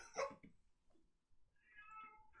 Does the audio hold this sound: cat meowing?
yes